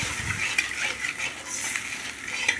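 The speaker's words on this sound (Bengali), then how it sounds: "খুন্তি দিয়ে ভালো করে নাড়াচাড়া করে নিলাম মশলার সাথে" A spatula stirs whipped yogurt into spices in a pan, making a steady soft scraping and sizzling close by with faint clinks, with no voices.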